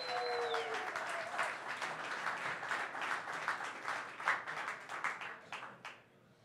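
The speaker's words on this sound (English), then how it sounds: "So a big round of applause to our sponsors and the entire Brewbound team." Conference audience applauding sponsors and a brewing-industry event team, a dense, steady wash of many hands clapping that begins over a brief tone and thins out near the end.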